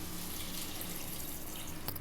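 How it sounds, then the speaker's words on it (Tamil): Water pours steadily into a pan of cauliflower and potato kurma, a continuous close splashing and trickling wash that runs unbroken for about two seconds, with no talking. "தேவையான அளவு தண்ணி சேர்த்துக்கலாம்."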